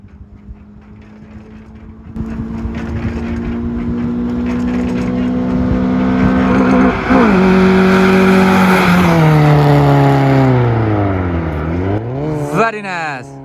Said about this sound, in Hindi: Very nice, fresh flyby for you.